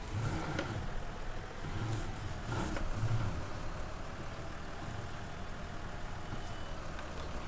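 A tractor engine in a farming video game drives and manoeuvres, a low steady mid-pitched drone with a few brief swells of revving early on, fairly quiet throughout.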